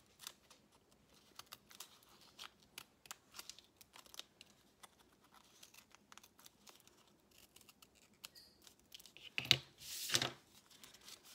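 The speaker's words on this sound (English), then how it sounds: "I'm just going to cut out little notches here." Small scissors snipping notches in folded paper, a quiet run of quick crisp clicks and snips, close up, ending with a louder rustle and crinkle as the paper is handled.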